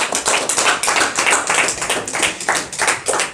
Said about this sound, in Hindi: जितने खुश हैं ताली लगा दो यीशु के लिए।